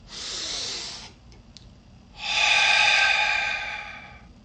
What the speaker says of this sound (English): take a deep breath through your nose